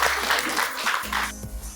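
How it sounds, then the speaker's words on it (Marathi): A brief burst of audience clapping breaks out for the participants at a quiz-style event, a dense, close patter lasting under two seconds. "मोठ्याने टाळ्या वाजवा सगळ्या पार्टिसिपंटा खातीर"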